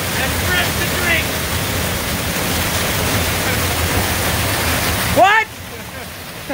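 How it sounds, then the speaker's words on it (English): A waterfall pouring out of an underground cavern roars as a steady, loud broadband rush that fills the scene and cuts off abruptly near the end, with a voice briefly heard over it. "the waterfall launches from an underground cavern"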